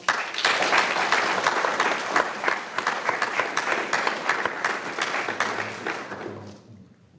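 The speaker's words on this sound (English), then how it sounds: "please give Major Scott a round of applause" Sustained applause from a crowd at a military change of command ceremony, dense steady clapping that holds loud for several seconds before tapering off at the end.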